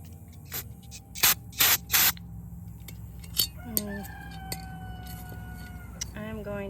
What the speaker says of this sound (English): So now I get my brake cleaner